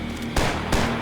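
Gunfire in the video game Max Payne 3, two heavy broadband bursts about a third of a second apart over a steady din of battle, loud and close.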